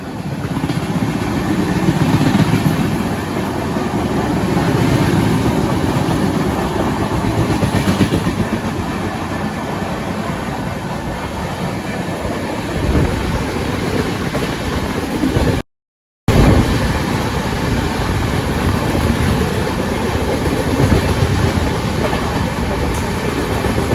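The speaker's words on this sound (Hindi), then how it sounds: "देखते ही देखते हम लोगों ने एपी एक्सप्रेस को ओवरटेक भी कर लिया" An express train, the Mahakal Express, runs alongside and overtakes the AP Express, giving a loud, steady rumble with continuous clickety-clack of wheels over rail joints. It lasts the whole stretch except for one very brief dropout, with no talking.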